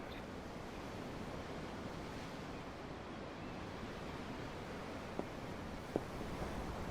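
Steady ocean surf washing continuously in the background of a Tales of Arise game scene, a soft broadband roar with two faint brief clicks near the end.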